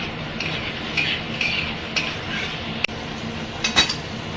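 A spoon scrapes and clinks against a pot while spices with salt and turmeric are stirred and sautéed, soft steady sizzling underneath and a few sharper metallic taps.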